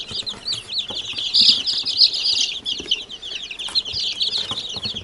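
Newly hatched chicks from a mixed domestic flock peep continuously in a shrill, overlapping chorus, with occasional wing flutters and scuffling nearby.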